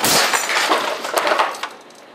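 An air cannon fires at 500 psi into a fire log, giving one sharp loud blast and crack of splitting wood, with a splintery burst that dies away over about two seconds.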